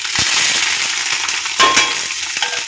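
Mustard seeds and curry leaves sizzle and crackle steadily in hot oil, a loud continuous frying hiss with a few sharper pops and stirring clatters, close by with no voices.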